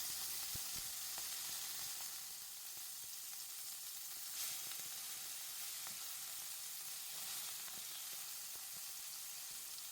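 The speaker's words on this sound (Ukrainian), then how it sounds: "смажимо їх по кілька хвилин на великому вогні з обох боків" Beef pieces fry in a skillet over high heat with a steady, fairly quiet hiss and crackle that runs unbroken. Occasional faint ticks and pops rise from the fat, and no one speaks.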